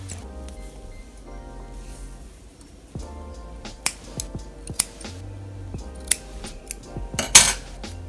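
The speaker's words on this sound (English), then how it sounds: "to make it easier you want to snip these little ends off here" Scissors snip the loose ends off Havana twist hair: several sharp, close metallic cuts in the second half, spaced irregularly, following quieter handling noises and faint rustling.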